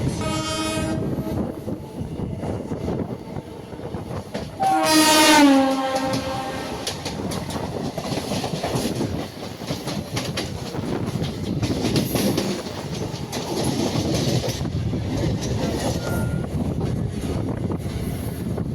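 An EMU suburban train running between Gummidipoondi and Chennai Central rumbles and clatters steadily, with a loud horn blast near the middle rising over the ongoing track noise, recorded from close by.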